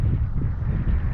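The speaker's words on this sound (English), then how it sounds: "gee, it's still windy" Strong seaside wind at a campsite buffets the microphone with continuous loud low rumble and gusts, steady throughout with no other sounds.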